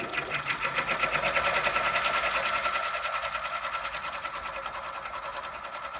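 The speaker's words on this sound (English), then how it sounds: "So it's doing the underlay stitches for letter B." Embroidery machine stitching the underlay of a logo letter at reduced speed, a fast continuous rhythmic whirring chatter, close and steady throughout, with a voice talking over it.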